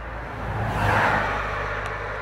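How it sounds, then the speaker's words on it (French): Traffic rushes past on a busy road, with a broad whooshing engine roar swelling and fading as vehicles go by, close and continuous, with no voice over it. "Donc il y aura beaucoup de bruit de bagnole."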